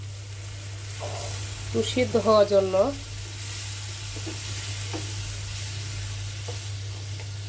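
Hot water is poured into a pan of frying beef brain curry, giving a steady sizzle and hiss over a low kitchen hum, while someone speaks briefly near the start.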